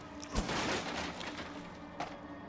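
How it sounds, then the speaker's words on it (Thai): In the video game Resident Evil Village, a dense burst of rapid gunfire crackles early, then a sustained noisy roar continues, with another sharp shot near the end; no one speaks. "โอ้ยเสียงปืนใหม่ด้วย"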